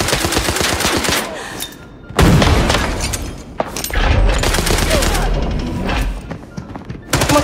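Rapid gunfire from an MDR rifle in an online shooter game, loud bursts of repeated shots in quick rhythm with brief pauses between volleys, mixed with thuds and players talking.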